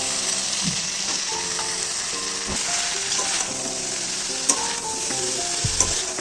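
Whole green chillies drop into hot oil in a frying pan for a prawn and bottle gourd dish, producing a loud continuous sizzle with crackles and a few sharp clatters of a utensil, no talking.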